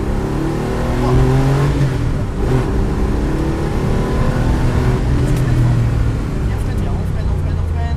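A car pulls through a driving lesson on a track, its engine holding a steady drone and then rising as it accelerates, with the instructor's voice over the motor.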